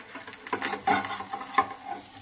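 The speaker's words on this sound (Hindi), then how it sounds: "अब इसे हम फ्लिप करेंगे।" A rice pancake frying in a pan is flipped, giving a soft scrape and thud over a steady close sizzle, with a couple of brief clatters.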